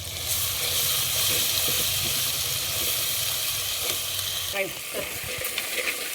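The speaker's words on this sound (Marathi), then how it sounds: "हे आपलं कांदा आणि खोबऱ्याचं जे वाटण आहे ते टाकून घेऊ ते पण आपण छान परतून घेणार आहे" Onion and coconut paste sautés for mutton curry on a wood-fired clay stove, a steady close sizzle of frying broken by the scrape and shuffle of stirring toward the end.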